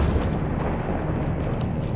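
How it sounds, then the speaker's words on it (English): A dense, rumbling blast from a bomb in the video game Alice: Madness Returns fills two seconds with loud, sustained low roar and crackle. "Can I bomb these things?"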